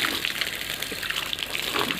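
Water gushes and splashes continuously as it is poured over a cow during bathing, a close, steady rushing sound with no pauses.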